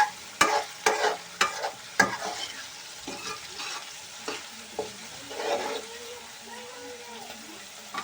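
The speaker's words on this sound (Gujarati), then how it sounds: "તો આને આપણે આમ સડવા દઈશું અને હલાવતા રહીશું." Green peas sauté in a pan with onion, a soft, faint sizzle under repeated scraping and clacking of a spoon as they are stirred, with several sharp knocks early on.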